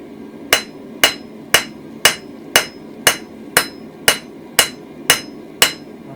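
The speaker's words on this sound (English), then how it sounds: "I'm just squeezing it between the anvil" A hammer strikes hot metal on an anvil eleven times in a steady, even rhythm while hand forging a toasting fork, each blow a sharp ringing clang close by, with no talking.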